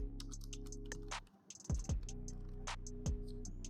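Keys clatter on a computer keyboard in a quick irregular run of close, crisp clicks, pausing briefly midway before the tapping resumes over a steady low hum.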